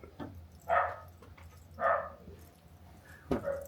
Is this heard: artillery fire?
no